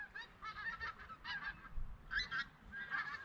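Geese honking as they fly over a riverbank on the Humber, a series of repeated nasal honks in loose clusters at moderate distance, no voices over them.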